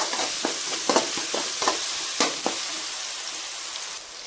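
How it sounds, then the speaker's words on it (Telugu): Ginger-garlic paste frying and being stirred in a pan for a Telangana-style fish curry, giving a steady close sizzle broken by irregular scraping stir strokes, with no talking. "టూ టేబుల్ స్పూన్ అల్లం వెల్లుల్లి పేస్ట్ వేసుకోండి ఒకసారి కలుపుకోండి అల్లం పచ్చి వాసన పోయే వరకు ఇంతవరకు ఫ్రై చేయండి"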